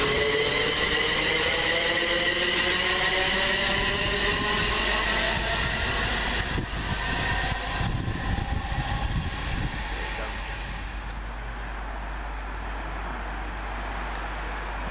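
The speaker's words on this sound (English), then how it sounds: "Next out will be the 1127 local service from Walsall to Wolverhampton." A Class 350 local train on the Walsall to Wolverhampton service passes close by, a loud continuous rumble of wheels and traction with swelling and fading whine, easing slightly toward the end.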